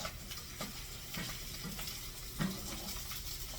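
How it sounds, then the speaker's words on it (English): Food sizzles steadily in a pan while a utensil scrapes and stirs, with a few brief clinks standing out against the continuous frying hiss. "I'm going to give that a quick stir"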